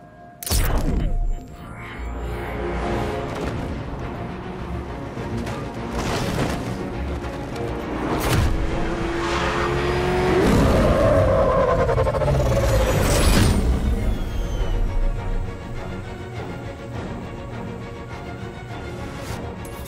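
Car engine roaring with a rising tire squeal amid heavy booms and crashes in the Batman Arkham Knight video game, loud and continuous throughout a chaotic vehicle chase.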